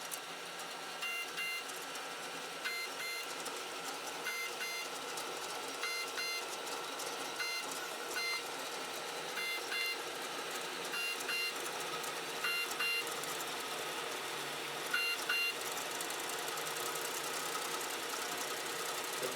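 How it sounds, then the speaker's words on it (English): A steady mechanical hum runs throughout with repeated short, high buzzing chirps as a 3D printer's motors jerk back and forth during retractions, fairly quiet and close. "The buzzing sound is retractions."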